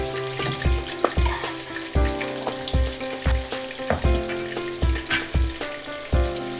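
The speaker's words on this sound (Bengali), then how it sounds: "ফোড়নটা হালকা ভাজা হয়ে গেলেই বেটে রাখা পেঁয়াজটা এখানে ব্যবহার করলাম" Onion paste frying in oil with bay leaves, green cardamom and cumin for a Bengali-style doi katla fish curry: a steady, close sizzle broken by regular knocks of a spatula stirring against the pan.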